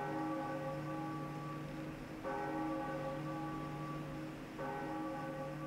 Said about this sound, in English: I mean, it's a nice bell.